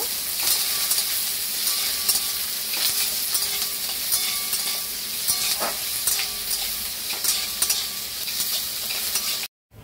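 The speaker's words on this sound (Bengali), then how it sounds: "পেঁয়াজটা এবার লাল করে ভেজে নেব" Three chopped onions fry in hot oil for mutton kosha, a loud continuous sizzle with scattered spatula scrapes and clinks running steadily throughout before cutting off abruptly at the end.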